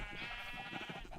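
Sheep bleating in the Minecraft video game, a wavering bleat lasting about a second over steady background ambience, with no talking.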